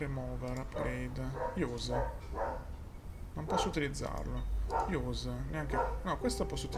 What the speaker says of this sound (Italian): Vi chiedo sempre scusa per il cane